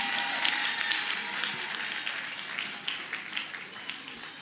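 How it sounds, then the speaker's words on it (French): An audience at a contest in Bukavu, South Kivu, applauds a girl with sustained, dense clapping that swells and dips slightly, heard steadily throughout without talk on top. "Est-ce qu'on peut acclamer pour cette fille?"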